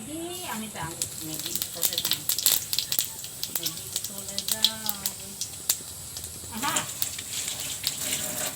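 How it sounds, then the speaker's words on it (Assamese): Cumin seeds sizzle and crackle in hot oil in a home kitchen, a busy spattering hiss with sharp pops. Someone talks over the sizzling throughout. "এতিয়া গৰম তেলটোত এই জিৰাখিনি দি দিম"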